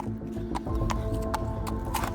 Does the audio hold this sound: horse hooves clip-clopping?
yes